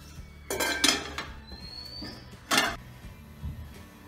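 A metal pot lid clatters down over oyster mushrooms left to marinate in a home kitchen. Two short bursts of clinking cookware, the second a single sharp clank, sit against quiet background noise.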